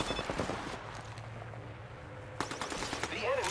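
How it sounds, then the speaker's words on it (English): Rapid automatic gunfire from enemies in the Apex Legends battle royale game, dense bursts of shots crackling through most of the stretch, with a sharp fresh volley near the end over steady game ambience. "The enemies are shooting at me."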